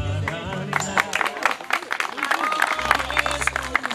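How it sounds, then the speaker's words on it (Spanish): Audience applause at a gathering, heard as scattered bursts of hand clapping that rise and thin out over a few seconds, mixed with voices. "Fuerte el aplauso, muchas gracias."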